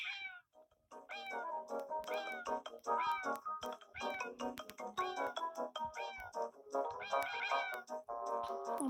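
A kitten meows again and again, with short, rising, fairly loud cries that come one after another in a rapid, insistent run, close by and without any talk.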